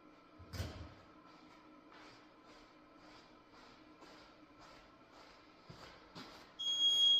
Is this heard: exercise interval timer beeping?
yes